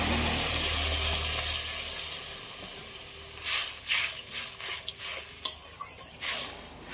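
Water is poured onto fried potatoes in a pan of fish curry, giving a loud steady hiss that fades, then a series of sharp sizzling bursts and spoon clatter as the mixture is stirred.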